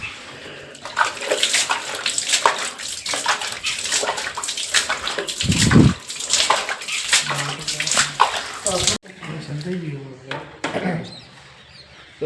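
Water splashing and sloshing in a bathroom, a busy continuous wash with louder bursts, then a brief break before quieter splashes; voices talk over it throughout.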